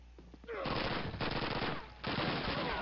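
Sustained automatic gunfire from the first Call of Duty video game, two long loud bursts of rapid shots with a short gap between them.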